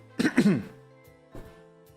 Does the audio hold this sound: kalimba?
no